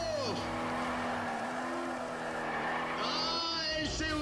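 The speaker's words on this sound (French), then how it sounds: "Carole Monroe fait chauffer ses pneus" In Need for Speed ProStreet, a race car does a tyre-warming burnout, its engine revving hard and steady while tyres squeal with rising and falling pitch. A commentator talks over the loud, continuous noise.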